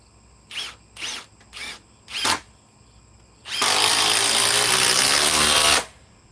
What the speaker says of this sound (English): The Gen 4 Milwaukee impact driver. 6-amp forge battery.